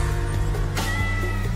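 A cat meow stands in for an ocelot: a single loud, tonal cry rises and falls over a steady, sustained background tone.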